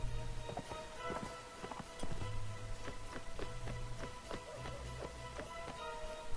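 Horse hooves from the video game Mount and Blade Warband thud in a quick, uneven clip-clop rhythm for several seconds over a low background hum.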